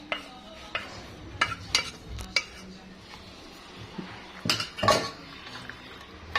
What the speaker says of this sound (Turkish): Bu şekilde makarnayı güzelce karıştırıyoruz.